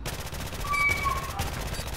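Sustained automatic gunfire from the video game Prop Hunt, a steady, loud stream of rapid shots over a couple of seconds, heard alone without speech.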